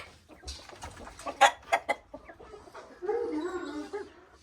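Chickens cluck near the microphone in short bursts, followed by a longer, drawn-out squawking call, with a little faint background noise.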